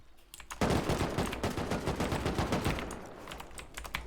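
Rapid automatic rifle fire in the video game Rust, a dense stream of shots of about three seconds at steady rhythm, loud and close, then tapering off into scattered faint sounds.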